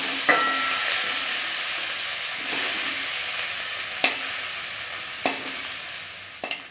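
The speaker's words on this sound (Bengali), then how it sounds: "চিংড়ি মাছগুলো ভেজে নেব।" Small sea prawns fry in hot oil in a wok with a continuous close sizzle and hiss. A few sharp clicks of a spatula against the metal punctuate the frying, and there is no talk.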